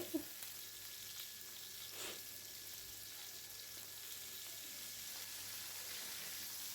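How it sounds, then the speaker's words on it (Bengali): A soft, steady sizzle of steamed cauliflower frying in oil, heard up close, with a faint stir or two near the start. "ভাপিয়ে রাখা ফুলকপিটাকে তেলে ছেড়ে দিলাম এটা আমি ব্রাউন করে ভেজে নেব"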